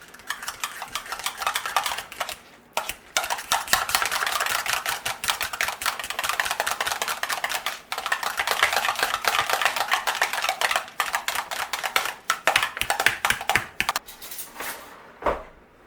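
Mashed potatoes are stirred with milk in a bowl, giving a close, dense run of quick clicking and scraping utensil strokes that continues with a few brief pauses.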